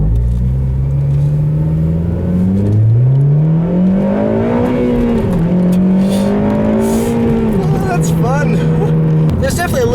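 A 2009 Honda Civic Si sedan's engine revs up through the gears into VTEC, its pitch climbing in steady sweeps with brief drops at the shifts, heard loud from inside the cabin under steady road rumble.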